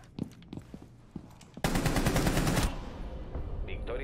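Rainbow Six gunfire in a tense late-round firefight, a few scattered shots and footsteps, then a loud sustained automatic burst of about a second, followed by quieter game sounds.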